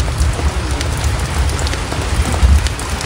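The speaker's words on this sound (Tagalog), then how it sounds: "Inabot na po kami ni Bali ng ulan" Steady rain patters on a surface, a constant hiss with soft drops, close and fairly loud.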